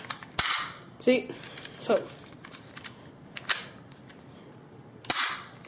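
A CYMA P.618 airsoft pistol fires several sharp, close snaps at irregular intervals, sometimes seemingly on its own, while someone speaks briefly between shots.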